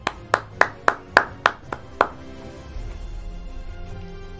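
Several sharp hand claps in a quick, steady rhythm, about eight in two seconds, close and fairly loud, followed by quieter background music.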